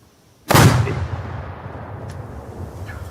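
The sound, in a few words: gunshot from a gun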